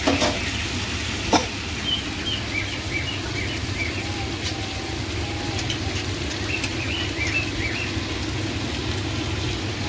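Tomatoes and salt fry in hot oil in a pan, giving a steady, loud sizzle throughout, with faint spoon stirring and scraping mixed into the crackle.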